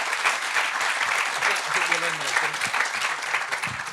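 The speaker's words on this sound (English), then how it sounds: "I think that's worth a round of applause." An audience at a Saturday morning sofa-session talk gives a round of applause, a steady, close patter of clapping lasting the whole stretch while someone talks over it.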